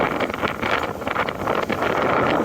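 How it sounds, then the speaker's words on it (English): Strong wind by the sea facing the bay at Nesebar buffets the microphone in a constant, loud roar with gusty fluctuations, and no voices are heard. "sorry, but it's gonna be windy"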